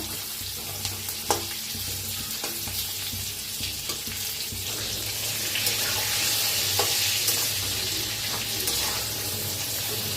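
Masala frying in oil for a salted brinjal (khar vange) dish, a steady broadband sizzle throughout with occasional sharper crackles and spoon scrapes, growing slightly louder in the second half, no talking.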